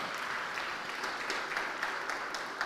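A church congregation applauds during a Sunday morning baptism service, a soft, steady wash of clapping heard from a distance without talk over it.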